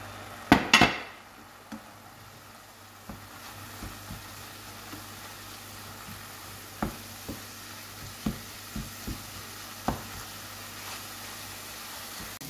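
Minced meat frying in a pan with courgettes and finely chopped parsley, a soft steady sizzle under scattered spoon scrapes and taps against the pan, with a louder clatter at the start.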